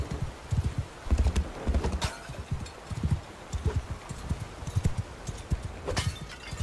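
Horse hooves clip-clop at a steady gallop in the medieval combat game Mount & Blade II: Bannerlord, with a whinny near the end; busy, mid-loud hoofbeats, no talk.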